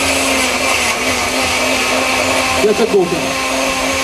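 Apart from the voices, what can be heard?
blender mixing kale and strawberry smoothie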